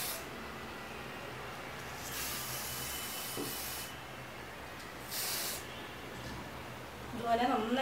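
Metallic gold spray paint hisses from an aerosol can onto a clay pot in two bursts, a longer spray and then a short one, steady and close against a quiet background.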